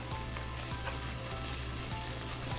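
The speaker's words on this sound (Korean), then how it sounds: "자, 타지 않게 볶으시면 돼요." Spicy Korean pork, jeyuk-bokkeum, stir-fries in a hot pan with a steady, close sizzle and crackle, faint stirring scrapes now and then, and no voices.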